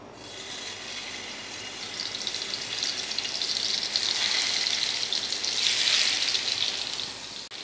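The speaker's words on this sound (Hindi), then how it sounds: "ऑयल गर्म हो चुका है तो अब इसमें हम कबाब रखते जाएंगे।" Chicken kebabs shallow frying in hot sunflower oil give off a steady, bright sizzle that swells louder in the second half, a dense crackling hiss with no talk.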